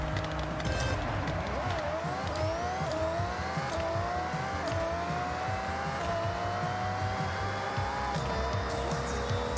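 A 1999 Toyota Altezza in the Forza Horizon 6 video game launches from a standstill, the engine note rising through gears with tire squeal, steady and fairly loud throughout.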